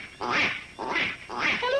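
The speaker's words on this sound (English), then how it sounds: "Beautiful duck call." A duck call is blown close up, producing three evenly spaced, raspy quacks that are loud and clear with no talking.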